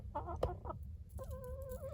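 Hens in a chicken coop made from a converted coal house, clucking close by in short bursts followed by a longer drawn-out cluck.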